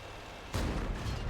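Artillery gun in World of Tanks firing a single sharp, loud blast over steady battle noise.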